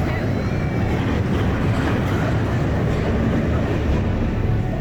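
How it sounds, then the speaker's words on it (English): A roller coaster rumbles continuously inside a large, largely empty shopping mall, a loud, steady rolling roar of wheels on track echoing through the space, with people talking over it. "oh my God, the roller coaster's going"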